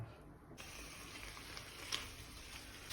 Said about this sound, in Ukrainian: Викладаю м'ясо на сковороду.